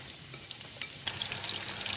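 Sliced onions sauté in a pan as a biryani garnish, a quiet sizzle that jumps to a loud, steady frying hiss partway through, with light stirring.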